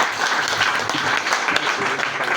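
Audience applause at a French-language deliverance church service, a dense, steady wash of clapping that stays loud and close throughout.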